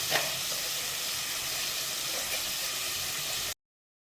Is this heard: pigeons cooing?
no